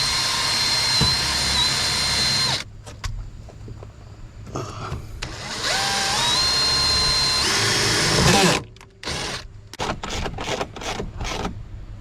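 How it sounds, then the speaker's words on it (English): A power drill bores into the plastic bumper of a Nissan 300ZX in long, loud whining runs, then stops and restarts in short bursts. "Drill your bumper"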